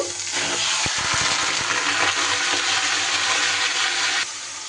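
Marinated chicken hits hot oil and ghee in a pan, setting off a loud, steady sizzling hiss with a few clattering knocks near the start, then the frying quiets slightly near the end.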